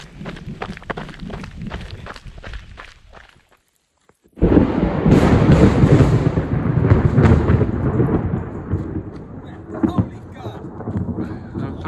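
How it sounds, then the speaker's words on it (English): Thunder on the Wicklow Way breaks suddenly after a brief hush, a loud broad rumbling roar that rolls on for several seconds, preceded by rhythmic rustling like footsteps or rain. "That was a cracking bit of thunder that I got literally as I pressed record."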